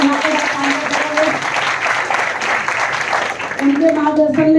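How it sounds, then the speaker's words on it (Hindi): An audience at a business directors' event claps steadily throughout, a dense continuous applause with some voices and music tones underneath. "जोरदार तालियां होनी चाहिए"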